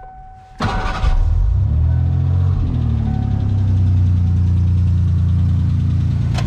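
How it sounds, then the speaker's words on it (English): A car that has just been jump-started cranks and catches, its engine firing up loudly and then settling into a steady, close idle that continues to the end. "Now all we gotta do is just hit the starter."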